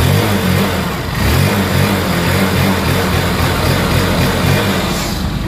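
A repaired motorcycle engine runs steadily after its spark plug cap fix, no longer misfiring after getting wet in rain or washing, with a loud, continuous close-up idle and a low rumble that holds throughout.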